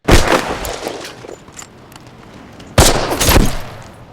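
Sniper and rifle gunfire from a World War II battle scene in a war TV series: two loud bursts of sharp shots, one at the start and another near the end, with a quieter stretch between them and no talk.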